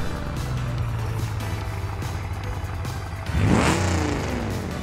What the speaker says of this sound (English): And a car without a muffler.